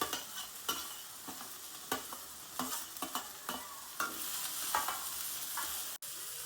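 Chopped vali beans added to a pan of fried onion, sizzling steadily while being stirred, with repeated scraping strokes of a spoon against the pan.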